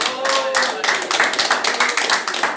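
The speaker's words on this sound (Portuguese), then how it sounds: "Pode aplaudir porque é do Senhor." A church congregation claps during a worship service, a steady patter of many hands mixed with voices speaking and calling out over it throughout.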